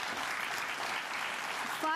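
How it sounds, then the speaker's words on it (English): Studio audience applause on an Irish television game show, steady clapping throughout with a voice cutting in at the very end. "Give her a round of applause."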